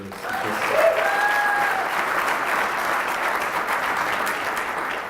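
An audience at an achievement ceremony applauds in a dense, steady wash of clapping that swells and holds for several seconds, with a brief whistle rising above it.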